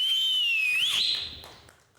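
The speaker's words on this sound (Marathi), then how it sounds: "पहिली शिट्टी तुमच्यासाठी" A person whistles a single long, shrill, wavering note on a comedy stage show, sliding down and then back up before trailing off, clear and close with no talking.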